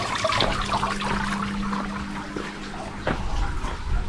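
Steady rushing water pours from a waterfall past a dragon statue on the hillside path up to a temple in Nakhon Nayok, Thailand, a loud continuous splash with a faint steady tone underneath.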